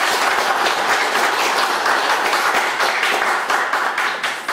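An audience applauds at the close of a lecture at a political academy, with steady, dense clapping from many hands that continues loud throughout and fades slightly at the end, and no voices.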